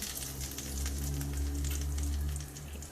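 Hot oil tempering crackles and spatters in a pan for mint chutney, a steady busy sizzle with scattered sharp pops over a low hum, close and continuous with no talking.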